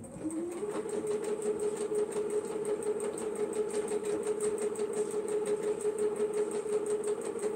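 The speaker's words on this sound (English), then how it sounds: "And then I'm going to go sew it down." Quilt being stitched on a sewing machine, the motor spinning up and then running at a steady rapid whir with a regular needle rhythm, fairly close and continuous, with no talking.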